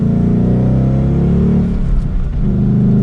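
A 2022 Ford Mustang GT Premium California Special with a six-speed manual pulls away on the road, its V8 giving a loud, steady low rumble that climbs mildly as it accelerates.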